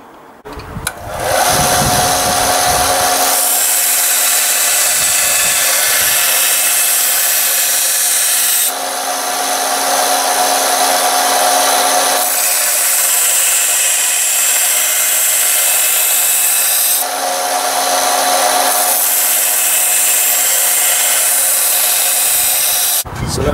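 Steady loud grinding of a powered abrasive tool putting an edge on a replica Bronze Age dagger, running continuously in long passes with brief dips and changes in tone between strokes, and no talking.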